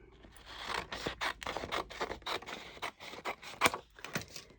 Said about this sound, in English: Cut a strip.